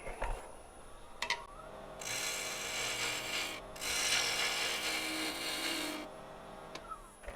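A small pointed woodturning gouge cuts into a spinning wooden herb stripper pot on the lathe, rounding its bottom. Two sustained hissing, scraping cuts of a few seconds each are separated by a brief pause, with lighter ticks before and after.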